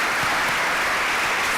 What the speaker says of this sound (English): I do want to give one more round of applause for all 3 panelists.